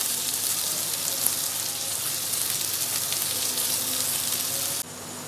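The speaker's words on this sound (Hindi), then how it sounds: "अब इसमें प्याज ऐड करेंगे और इसे फ्राई करेंगे गोल्डन होने तक" Onions frying with whole spices in a pan for a dhaba-style mutton masala, a steady close sizzle with crackle running throughout, briefly dipping near the end.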